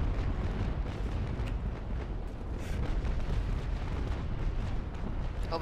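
Ship cannon fire in a Naval Action sea battle, with small 4- and 6-pound guns booming in a dense, continuous rolling barrage of overlapping low blasts and crackling bursts at steady loudness.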